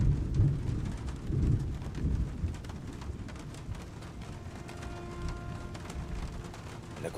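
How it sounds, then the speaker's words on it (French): Thunderstorm ambience from the Tomb Raider (Definitive Edition) video game: steady rain with low rolling thunder swelling near the start, continuing as a constant wash with faint tonal game sounds later. "J'aime pas cette tempête."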